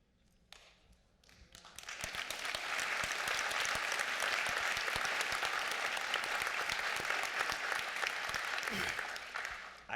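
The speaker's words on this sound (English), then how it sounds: "I don't know if that deserves an applause" An audience at a panel discussion bursts into applause, building over about two seconds into dense, sustained clapping that holds loud and steady before easing slightly at the end.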